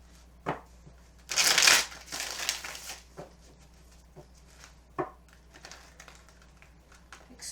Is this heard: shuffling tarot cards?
yes